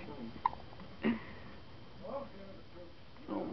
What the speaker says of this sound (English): What you doing with them hiccups?